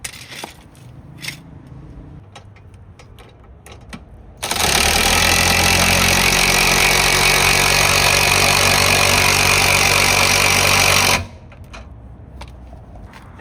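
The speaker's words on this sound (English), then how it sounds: "I just use my little impact and it goes up and down very quick." A small impact wrench drives a stock car jack up and down during a Subaru oil change, a loud, continuous buzzing whir lasting about seven seconds between quieter stretches of scattered clanks and taps.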